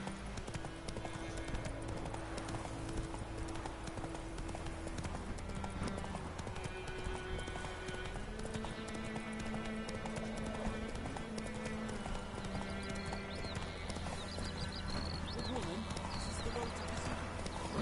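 The horse Roach trots in The Witcher 3, its hooves clip-clopping in a steady rhythm under background music, with occasional whinnies and someone talking over it.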